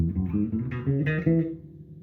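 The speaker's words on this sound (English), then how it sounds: "so the strings will vibrate if I don't mute them." Low bass notes plucked and left ringing, their tones sustaining and overlapping before fading out, close and fairly loud.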